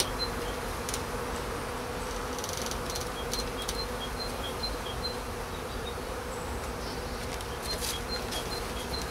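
Honey bees buzz in a continuous, close, droning swarm during an early-spring beehive inspection, with scattered higher whines from individual bees passing near. No one speaks.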